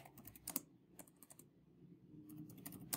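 Quiet typing on a computer keyboard, with short bursts of soft key clicks separated by brief pauses, close and faint.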